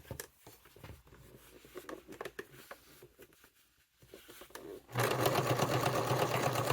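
A person talks briefly, then a sewing machine starts stitching a satchel purse, running loud and steady for the last couple of seconds.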